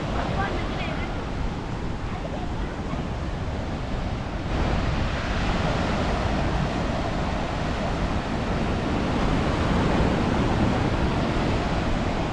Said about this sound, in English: On the pier of the Galle Face Beach